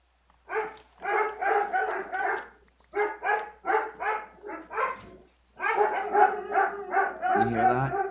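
A pack of dogs barks in repeated rapid bursts, excited and close, with brief gaps between volleys and a low whimper near the end.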